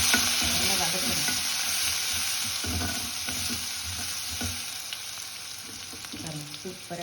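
Onions sizzle and fry in a hot pan after mustard seeds pop, for a brinjal and mango sambar, with a steady crackle and occasional stirring scrapes close by.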